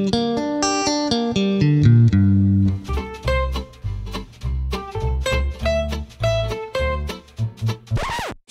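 Guitar playing a minor arpeggio, single notes ringing one after another, first slower and sustained, then quicker plucked notes in a bouncing rhythm, close and clear with no talk.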